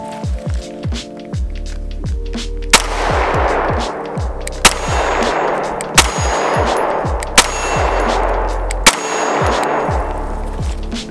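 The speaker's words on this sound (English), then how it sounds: "So let's see how I can shoot this thing one-handed." Custom Smith & Wesson M&P 2.0 pistol fired one-handed at a range: five loud, sharp shots spaced about one and a half seconds apart, each with a crisp crack and ringing tail, over steady background noise.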